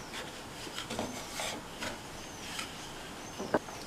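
Chapati dough rolled out with a rolling pin, giving soft rhythmic rubbing strokes against a board, faint and close, with a small knock near the end.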